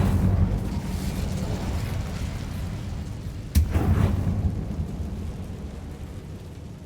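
A fire spell, Incendio, cast in Hogwarts Legacy lands as a sudden sharp burst partway through, followed by a rumbling whoosh over a steady dense background roar.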